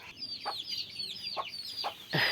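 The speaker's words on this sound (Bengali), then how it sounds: "এভাবে এরা খাবার খেয়ে বেড়াচ্ছে।" Native free-range chickens cluck softly at close range while foraging for scattered feed, a few short clucks spaced out over a constant background of chirping chicks.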